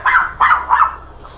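Dogs bark three times in quick succession, loud and close, followed by a softer yip.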